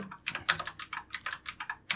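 Rapid typing on a computer keyboard while writing Laravel PHP code: a steady run of crisp, close key clicks in uneven bursts, with no voices.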